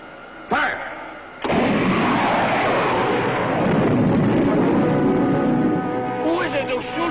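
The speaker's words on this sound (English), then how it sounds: "Who is it who shoots at Peter Hurtado?" Spaceship firing shots in a 1954 science-fiction series: a sharp blast followed by a second heavy burst that swells into a long, roaring rumble, with electronic warbling effects near the end.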